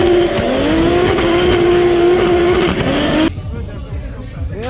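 A car does a burnout at a drifting event, its rear wheel spinning with a loud, sustained tire squeal over a high engine whine that cuts off abruptly, leaving rumbling and scattered squeaks.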